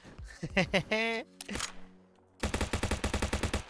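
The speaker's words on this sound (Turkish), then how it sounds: "bu silah ne sekiyor böyle?" Rapid gunfire in Streamer Life Simulator 2, a fast rhythmic burst of roughly a dozen sharp shots near the end, after someone speaking and laughing.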